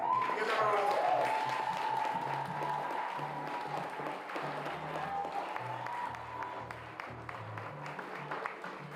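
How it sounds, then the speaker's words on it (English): Steady applause from an audience at a 2025 awards ceremony follows the reading of names, continuous moderate clapping in a large hall with a low musical tone underneath. "Give them a round of applause."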